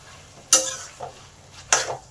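Chopped tomato with turmeric and chilli powder is stir-fried for chicken khichuri, two sharp spatula scrapes against the pan over a low sizzle, with a softer clink between them, close and without talking.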